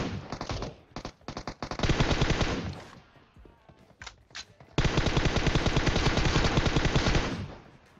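Sustained automatic gunfire in PUBG Mobile, loud rapid bursts with a brief lull in the middle before another long continuous burst that tapers off at the end.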